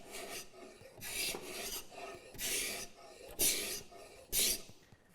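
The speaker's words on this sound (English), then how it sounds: "So we go in here with the scraper" A hand scraper rasps across wiry wood grain on a door, in five rhythmic strokes separated by brief pauses, close and moderately quiet with no voices.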